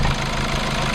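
A Hyundai i40 car engine idles loudly and close up, a dense steady rumble with a faint knocking texture across the short stretch.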